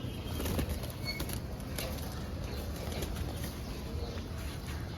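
Army pigeons kept at home take off and fly, their wings flapping in a soft fluttering rush over a steady outdoor background, with no speech.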